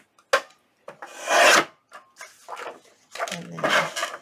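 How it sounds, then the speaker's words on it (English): A large paper guillotine trims paper for a junk journal, heard as a sharp opening knock followed by several close, loud rasping slices and scrapes of the blade through the sheets. "I'm going to bring in my larger guillotine and I'm going to do just that. I'm going to just trim it right off."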